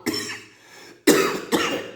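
A narrator imitates a wolf coughing with a bone stuck in its throat: one rough cough, a short pause, then two sharp, loud coughs in quick succession.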